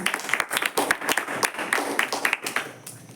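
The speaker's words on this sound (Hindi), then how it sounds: "तो उनके लिए जोरदार तालियां।" Audience members at a religious gathering applaud a speaker with sparse, uneven clapping. Individual hand claps stand out close and sharp, with only a thin background of other clappers beneath them.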